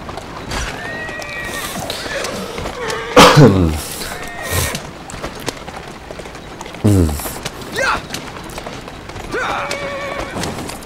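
A horse in Assassin's Creed Syndicate lets out several loud whinnies over the trotting clip-clop of its hooves, with short bursts of game noise in between.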